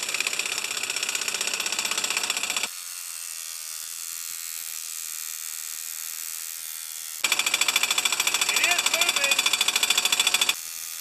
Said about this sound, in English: So I'm going to take my impact wrench and I'm just going to kind of support all this.